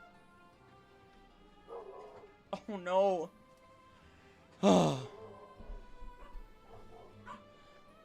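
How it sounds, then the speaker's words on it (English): Jaeger the dog whines, yips and gives a sharp close bark in a quiet room, with a brief spoken exclamation in between. "Don't bark at them."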